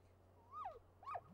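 A dog whimpering in the VR game Townsmen VR, two short rising-then-falling whines about half a second apart, faint over a low steady background hum.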